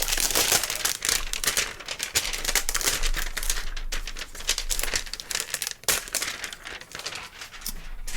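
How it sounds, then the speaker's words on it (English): A knife slicing open the cardboard and plastic packaging of a DJI Phantom 4 Pro V2.0 drone box, close and busy with rapid crinkling, tearing and scraping crackles throughout. "I'm just gonna go ahead and cut it with this knife here"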